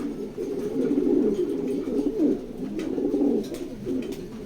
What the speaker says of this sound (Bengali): কবুতর দুইটা ভালো আছে